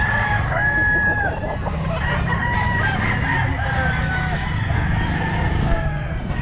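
A 10-month-old Boston Escolin rooster crows once, loud and close, amid clucking and a constant crowd-and-bird din at a busy pet market.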